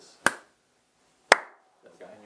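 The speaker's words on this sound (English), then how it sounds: "For me to clap? Yes, please" Two single sharp hand claps ring out about a second apart, close and crisp with a short room echo, before a voice begins speaking, at a football club's goalkeeping training.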